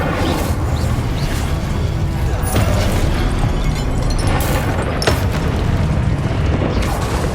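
An Incendio fire spell is cast in Hogwarts Legacy, a loud roaring whoosh of flame with a few sharp bursts over a constant rumbling game mix.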